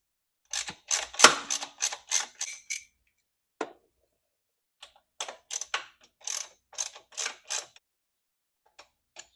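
A ratchet backs out two 10mm bolts holding the evaporative canister on a California-spec Kawasaki Vulcan 750: two clusters of quick, close ratcheting clicks separated by a pause, crisp and alone in otherwise quiet surroundings.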